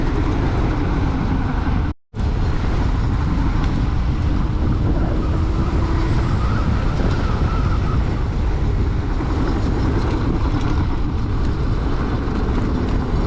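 Electric enduro bike ridden fast along a road at about 42, with steady loud wind rush and road roar throughout and one brief dropout near the start; no talking.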